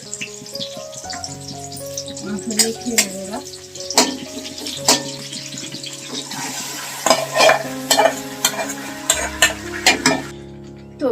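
Meat sizzles in a pan while a utensil stirs it, scraping and clinking against the metal in bursts over a steady frying hiss, with running water briefly in the background.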